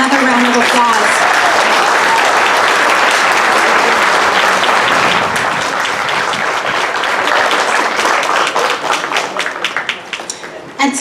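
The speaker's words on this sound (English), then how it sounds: "giving Mrs. Panetta just another round of applause" An audience at a Democratic women's awards event gives honoree Mrs. Panetta a loud, full round of applause that lasts about ten seconds before tapering into scattered claps.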